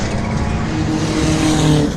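Production race cars from mixed classes, including a Nissan Silvia, lap the Phillip Island circuit, engines roaring loudly and continuously with overlapping passes and a faint tire squeal.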